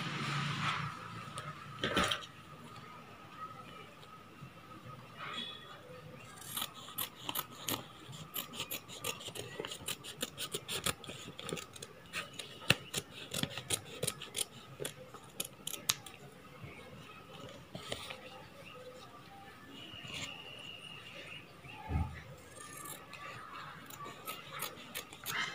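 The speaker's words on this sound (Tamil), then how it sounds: "இதை அப்படியே நம்ம கட் பண்ணி எடுத்துக்கலாம்." Scissors cut through blouse fabric while a neckline is shaped, giving repeated crisp snipping and rasping strokes in irregular bursts, close and clear with no talking.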